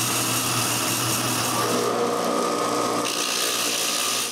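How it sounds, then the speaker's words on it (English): A wooden mortar spins on a lathe during final sanding, giving a steady, continuous high-pitched whir with a brief change in tone partway through, close and loud with no talk. "I stop this right there and give it its final sanding."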